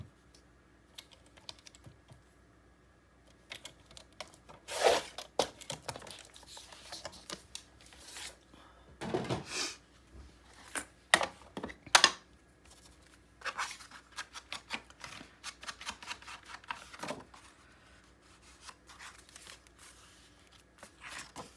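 Paper being trimmed for a Graphic 45 Autumn Greetings mini album, a quiet run of crisp snips, taps and rustles at close range with no talking.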